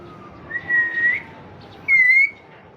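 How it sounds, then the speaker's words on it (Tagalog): Two short whistled notes from a person nearby, each a brief bright rising tone, separated by a pause over a quiet room background with no talking. "Whistle."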